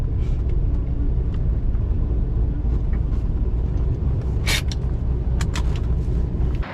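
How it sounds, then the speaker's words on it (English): Chevrolet Corvette C5 with a very low front end pulling slowly into a gas station, a loud steady engine rumble heard from inside the car, with a few brief clicks and scrapes near the end. "Pull up into the gas station now."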